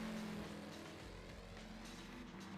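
A Chevy's engine roars steadily through big three-inch side pipe exhausts in the Gran Turismo 6 racing game, a constant low, throaty rumble at moderate level with no talk.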